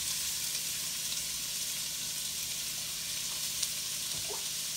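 Bacon and onions sizzle and fry in a little oil in a pan, a steady, close, dense crackling hiss that carries on without a break and with no talking.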